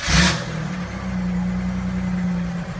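A 1997 Pontiac Firebird engine gives a short rev after a brief burst of noise, then holds a steady, close mid-pitched hum with a distinct tonal whine for a couple of seconds.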